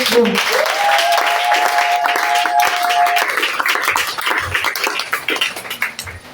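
A church congregation applauds and cheers during a sermon, with dense sustained clapping that starts loud and tapers off toward the end, along with some voices mixed in.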